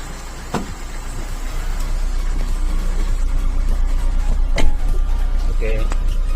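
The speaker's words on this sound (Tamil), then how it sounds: "ஸோ கம்ப்ரஸர் பம்பிங் ஓடிக்கிட்டு இருக்குது." A Maruti Suzuki Ritz car's air-conditioning compressor runs after a gas refill. It gives a steady, close low drone with a few brief clicks, and faint voices sit underneath.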